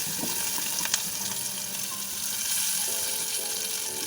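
Slit green chillies frying in hot oil for a vegetarian maan kochu dish, a dense continuous sizzle close up with a brief clink of a utensil, no voices.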